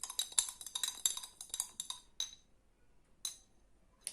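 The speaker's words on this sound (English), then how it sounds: "Maybe I can give it a stir" A utensil stirs homemade clove oil inside a glass jar, a close series of quick, bright clinks against the glass that thin out to a few isolated taps and then stop.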